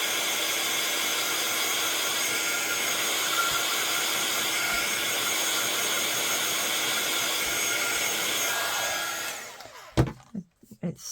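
A hair dryer blows steadily and loudly, close by, drying a soaked handmade silhouette card for about nine seconds before it cuts off, leaving a few faint knocks.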